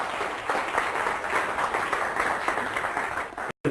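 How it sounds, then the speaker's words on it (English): An audience in a lecture hall applauds steadily for a student called down to the front, a dense wash of clapping that holds for over three seconds before cutting off abruptly. "A round of applause, of course,"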